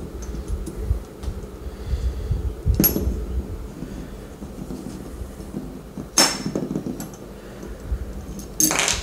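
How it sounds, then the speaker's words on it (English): An AR-15 bolt and firing pin are taken apart by hand. Low handling noise is broken by three sharp metallic clicks and clinks spaced a few seconds apart. "We're going to get the firing pin out. We're going to bring the bolt in, rotate this guy."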